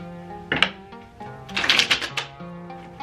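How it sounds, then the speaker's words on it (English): A tarot card deck being shuffled, giving brief crisp riffling bursts, one short and one longer, over soft steady background music. "this deck has been giving me trouble all day. It doesn't want to shuffle."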